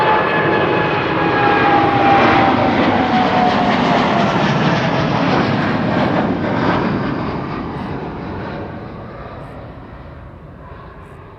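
An Air Canada airliner departing Amsterdam Schiphol for Montreal gives a loud, steady jet engine roar that holds strong and then gradually fades as the aircraft moves away, with no voices.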